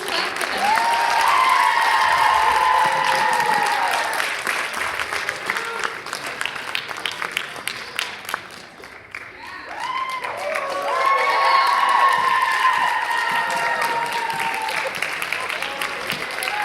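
A school talent show audience claps as the contestants are welcomed onto the stage, a full, steady burst of applause that fades midway and then swells again, with some cheering mixed in.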